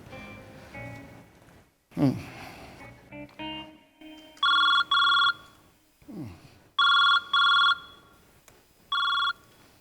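A telephone rings in short electronic double bursts during a Marathi TV comedy sketch, repeating several times, loud and close, with people talking between the rings.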